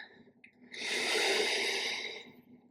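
A single slow, deep breath drawn in and released through the nose, close and soft, while resting in a yoga pose on a mat.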